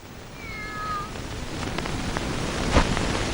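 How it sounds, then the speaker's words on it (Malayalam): A single short meow from a cat, faint and brief, over a steady background hiss with no talking. "ഒന്നുമില്ല, ഒരു പൂച്ച."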